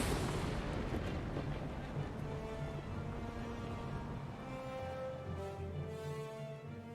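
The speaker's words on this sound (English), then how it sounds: "You were injured when the elemental exploded." An elemental explodes in the game Guild Wars 2, a sustained, loud roaring blast with heavy rumble that slowly fades into tonal, ringing game audio and music over seven seconds, with no speech.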